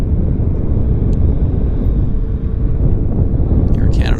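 An Air Canada Boeing 737 MAX taxis at Vancouver airport, its jet engines giving a steady, even rumble with a low roar that holds for the whole short stretch.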